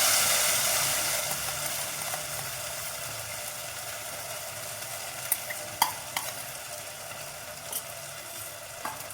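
Jowar flour with ginger and green chili paste stirred in a pan over a low gas flame for North Karnataka jolada nucchu, a steady soft sizzle with faint scraping and a few light clicks of the spoon against the pan.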